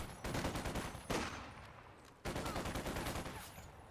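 Video-game artillery fire in Company of Heroes 2, where a British 6-pounder anti-tank gun is in action: three sharp, loud blasts, each trailing into crackling rumble and rapid follow-up reports, close and without speech.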